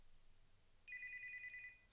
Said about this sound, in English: That's now ringing my mobile.